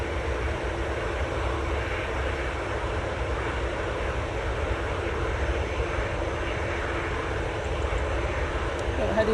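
Emirates airliner departing Manchester Airport, a steady, loud, continuous jet roar with deep low rumble filling the whole stretch without letup.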